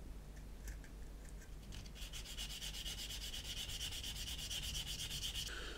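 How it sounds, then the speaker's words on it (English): Sanding plastic parts on a 1/200 Trumpeter Bismarck scale model to smooth away joints; a steady, close scratchy rubbing stroke runs continuously for several seconds with no talking. "This is a slightly awkward shape to sand down, get rid of all the joints."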